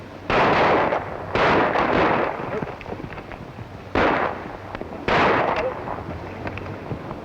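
Rifle shots ring out in a 1935 Western film, four sharp cracks spaced a second or more apart, each trailing off in a rough echoing decay over faint background noise.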